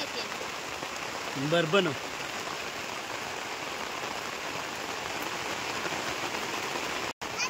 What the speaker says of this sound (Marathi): बरं अचानक पाऊस आला